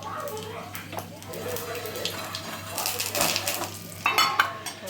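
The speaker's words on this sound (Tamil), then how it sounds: "அதே கடாயை வச்சு எண்ணெய் ஊற்றி கடுகு போட்டு கொஞ்சமாக கருவேப்பிலை போட்டுப்போம்" Mustard seeds and curry leaves hit hot oil in a kadai, giving a close crackling sizzle with scattered pops and metal-on-pan clinks that grow busier toward the end.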